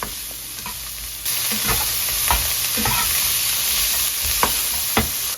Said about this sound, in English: While I was frying this